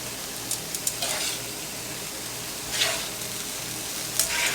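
Pasta is tossed in a hot pan with liquid, making a steady sizzling, bubbling hiss with a few soft scrapes and stirring surges, close and moderately loud, with no talking.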